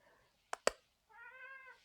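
A domestic cat gives a drawn-out, fairly faint meow near the end, after two sharp clicks, in an otherwise quiet indoor room.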